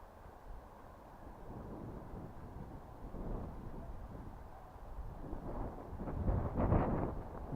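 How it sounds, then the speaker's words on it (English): Wind gusts near a slope buffet the microphone in low, uneven rumbles that swell toward the end, moderately loud with no talk. "Wind's picking up nearer we're getting to the slope."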